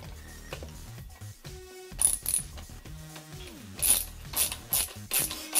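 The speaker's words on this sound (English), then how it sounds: "you're going to insert the screws into the smaller holes" Screws are driven into the parts of an IKEA FINNVARD desk, producing close, rapid ratcheting clicks with mechanical whirring in irregular bursts, separated by brief pauses.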